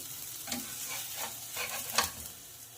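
A pancake made from boiled potatoes fries in a pan, a soft close sizzle with several short scraping stirs at irregular moments, fairly quiet and without talk.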